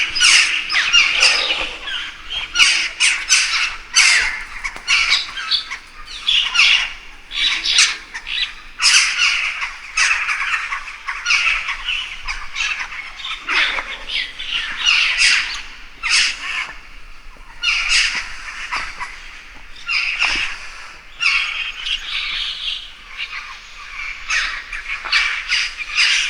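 Crows caw and squawk inside Akmeshit cave near Shymkent, their harsh calls overlapping in a dense, continuous chorus that echoes steadily throughout.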